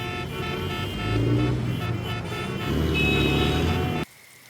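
Steady city road traffic with cars and trucks rumbling close by, a brief horn toot in the mix, the din cutting off sharply near the end.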